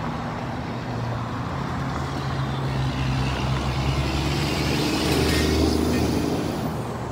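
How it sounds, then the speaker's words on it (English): A heavy truck passes on a bridge road in the desert, its loud, steady low rumble swelling and peaking near the end, with other passing traffic mixed in and no talk. "I could actually feel the ground as that truck went by."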